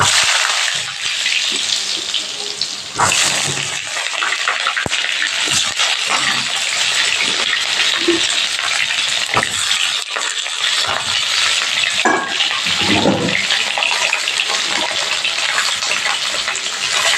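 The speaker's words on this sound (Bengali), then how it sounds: "এখন আমি আলুগুলো পটলটা ভেজে নেব।" Potatoes and pointed gourd fry in hot oil in a pan, a loud, steady sizzling hiss with occasional sharp spatters and stirring scrapes.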